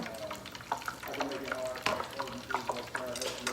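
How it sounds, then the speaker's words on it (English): A battered sandwich sizzles and crackles as it deep fries in hot oil nearby, with irregular pops and bubbling throughout. "now the sandwich is actually deep frying"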